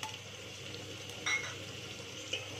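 Onion, ginger and garlic paste frying in a pan for a country-style mutton curry, a steady soft sizzle with a couple of brief louder bursts, fairly quiet and close with no talking.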